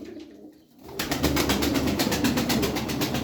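Pigeons cooing close by in a coop, a soft murmur at first, then a dense, continuous chorus of low throaty coos.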